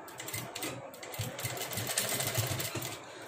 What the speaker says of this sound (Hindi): अभी हम मशीन लगा के दिखाएंगे कि आपने कैसे इस पे मशीन लगानी है